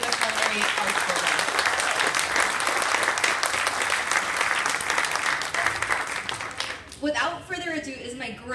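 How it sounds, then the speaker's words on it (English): Dense, loud audience applause fills a dinner event for about seven seconds, then fades as a voice starts speaking over the last claps. "So if we could give a huge round of applause for Pima Culinary Arts Program."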